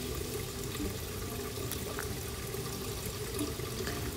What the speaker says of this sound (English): I'll fill the chamber with water, and then I'll turn it over and let the water carry the debris out